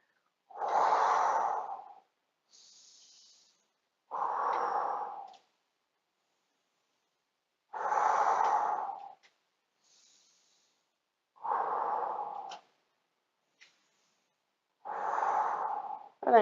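During a yoga session, five slow, deep breaths are heard, each a loud breathy rush lasting about two seconds, separated by quiet pauses, with faint softer breaths between them.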